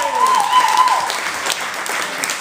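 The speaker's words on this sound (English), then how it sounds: "Let's give a round of applause." Wedding guests applaud during a newlywed game led by a Russian MC, a brief burst of clapping close by with a voice talking over the start of it.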